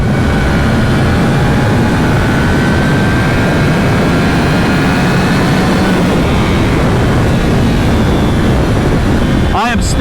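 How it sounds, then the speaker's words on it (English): Yamaha R1 sport motorcycle with a cross-plane crankshaft engine on stock exhaust, a continuous loud engine roar heard steadily throughout, probably at speed, with wind noise. "But I love that cross-plane crank sound."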